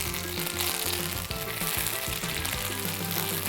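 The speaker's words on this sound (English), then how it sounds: "So I'm gonna put about 1/2 of those cut sage leaves into the pan now" Sliced sage leaves sizzle and crackle in butter with walnuts in a pan, a dense, close, continuous frying hiss with a steady tone beneath.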